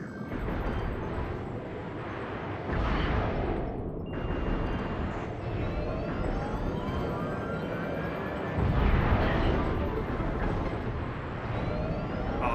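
In a video game, a missile explosion booms and rumbles continuously, with heavy blasts swelling near the start and again later over a dense, loud roar.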